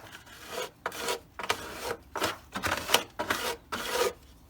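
A tool scrapes old residue off the gas tank of a C1 Chevrolet Corvette in a rhythmic series of about eight raspy strokes, close and fairly quiet, each a short rough drag with brief pauses between.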